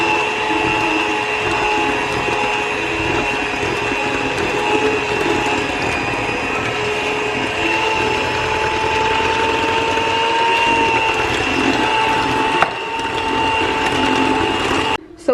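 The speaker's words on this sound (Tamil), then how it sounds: "ஸோ இதை மிக்ஸ் பண்ணுறதுக்கு நான் ஒரு எலக்ட்ரிக் பீட்டர் தான் யூஸ் பண்ணுறேன்" An electric hand beater mixes cake batter for a Ding Dong cake, a steady close motor whir with a constant tonal hum running throughout, ending with a brief click.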